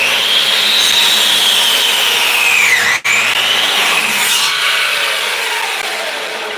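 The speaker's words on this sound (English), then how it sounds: "I know this miter saw sure don't like it being as wet as it is." A miter saw cuts through wet lumber in a long, loud, steady whine that dips in pitch as the blade bites, with a brief break midway before the cut resumes and slowly tapers off.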